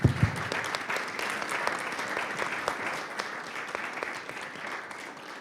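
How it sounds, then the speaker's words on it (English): An audience at a European digital partnerships panel event applauds the panelists, a steady, dense wash of clapping that holds at an even level for several seconds with no talk over it. "Give them a big round of applause, everybody, please."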